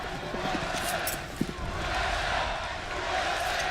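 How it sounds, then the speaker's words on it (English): A large arena crowd at a CS:GO esports semifinal, SK Gaming against Cloud9, gives a steady roar with a few chants and claps, loud and continuous under commentator talk. "The crowd trying to get Cloud9 into it."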